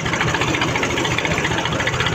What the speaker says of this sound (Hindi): ट्रैक्टर स्टार्ट कर लिया